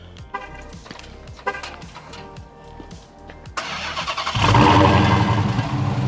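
A Chrysler 300 Redeye, a roughly 1000-horsepower build parked in a driveway on a cold day, cranks with a rapid starter whir, then fires into a loud, deep idle that swells and settles as a steady rumble.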